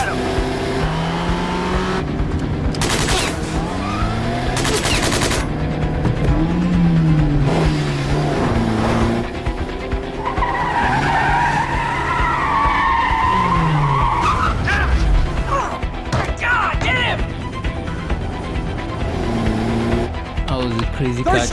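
Tires skid and screech through a car chase in the video game Quantum Break, with engines revving and squealing slides repeating across the stretch while people talk over the action.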